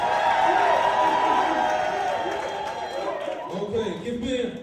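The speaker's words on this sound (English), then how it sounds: "When I say Mieno, right, you stamp your feet and clap your hands." A crowd at a spoken word and performance night stamps, claps and shouts together in a loud, dense burst that gradually thins, with a voice over the noise.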